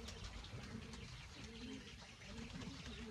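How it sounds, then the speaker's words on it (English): Soft, low pink-necked green pigeon coos repeat over steady outdoor ambience, faint and somewhat distant. "that's the pink-necked green pigeons, and that is the really only noise that they make"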